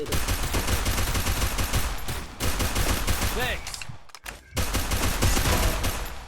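Gunfire in the Free Fire Clash Squad video game, dense loud rapid bursts of automatic shots with a brief drop in the middle, continuous and close, with game effects over it.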